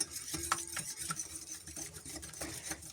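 Cake batter being stirred in a bowl by hand, soft repeated scraping and tapping strokes at close range, fairly quiet, with no talking.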